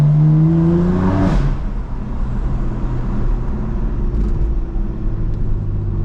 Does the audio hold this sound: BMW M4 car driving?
yes